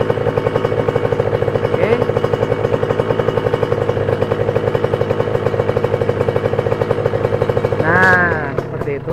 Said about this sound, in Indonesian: setel aja putaran langsam di 3000 rpm ya, seperti ini.